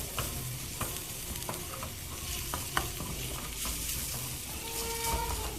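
Food fries in a pan at a beach holiday kitchen while being stirred, a steady sizzle broken by repeated scraping and clinking of the utensil against the pan, close and continuous with no talking.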